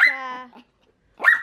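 A confined pet dog whines in a drawn-out, tonal complaint, then after a short silence lets out a sharp, close bark-like yelp.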